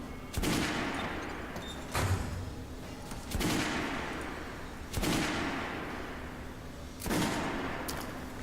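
Kalash automatic rifle fire in the video game Metro Last Light comes in five loud, sharp bursts spaced about every one and a half seconds, each cracking report trailing off in a ringing echo before the next.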